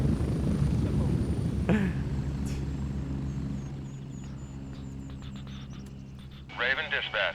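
Video game helicopter rotor thrumming steadily in the background as a squad of soldiers leaves the aircraft, with people talking over it and a brief voice chatter burst near the end.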